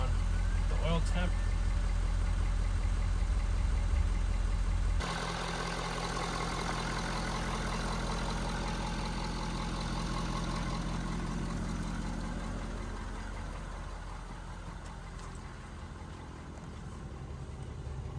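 A 2018 Ford F350 King Ranch pickup, a rebuilt wreck, idles steadily and fairly quietly up close, a low continuous engine hum that softens slightly in the last few seconds, with people talking over it.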